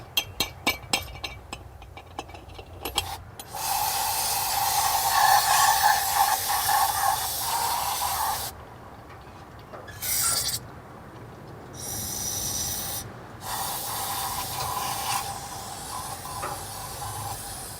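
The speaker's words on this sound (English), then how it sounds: "I'm going to spray some carb cleaner down the carburetor." A sustained aerosol spray of carb cleaner hisses in long bursts into the carburetor of a 1977 Chevy C20, with short pauses between them, preceded by a few brief clicks and rattles.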